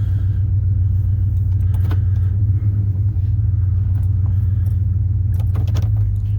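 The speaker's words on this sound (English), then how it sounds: "Right here, it shifts. Here's putting it into reverse." A 1996 Chevrolet Silverado C1500 pickup idles with a deep, steady engine rumble as it is shifted into reverse, and faint clunks and jangles sit over the constant low drone.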